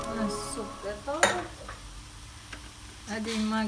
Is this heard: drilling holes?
no